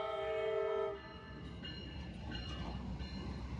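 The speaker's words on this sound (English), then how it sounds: "This is Amtrak 91 pulling into Tampa's Neve Y to reverse direction for its backup into the" An Amtrak passenger train, number 91, rolls into Tampa's station wye, with a loud sustained horn blast at the start giving way to steady low rumble and wheel noise of the train moving nearby.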